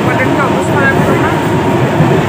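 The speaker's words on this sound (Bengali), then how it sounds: "এখন আমরা ট্রেনে বাড়ি ফিরছি" Interior of a moving passenger train, a loud continuous rumble and rattle of the carriage heard from inside, steady for the whole stretch without any voices.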